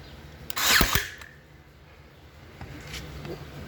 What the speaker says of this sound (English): For quickly fastening this at this time, I'm going to use the Ryobi Airstrike technology